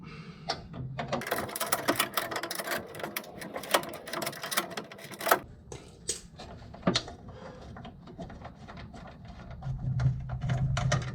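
A ratchet turns out a 13 mm bolt on a 2003 Murray riding mower, with rapid close clicking in uneven bursts, scattered sharp metal knocks, then a quieter stretch.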